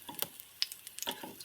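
A batter shrimp pancake frying in a pan, faint crackling sizzle with scattered small pops and ticks, close but quiet, no talking.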